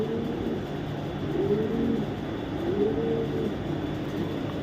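Racing pigeons in a pigeon shop coo softly and repeatedly over a steady low background hum, the rising calls moderately close.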